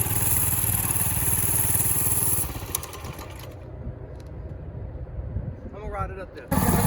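The small engine of an X1 pocket bike runs at a steady idle, then drops quieter for several seconds before revving back up loud and close at the end.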